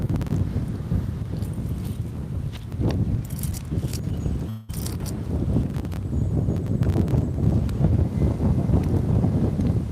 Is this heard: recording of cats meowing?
no